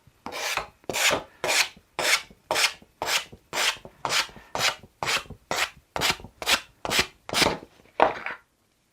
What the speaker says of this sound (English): we'll just quickly sand them down.